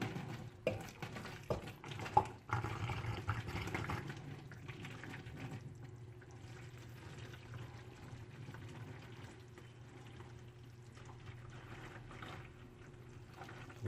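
Hot beer wort is poured gently from a small milk pot into another vessel for homemade beer. It makes a quiet, close splashing trickle that is busiest in the first few seconds and then settles into a softer, steady liquid wash.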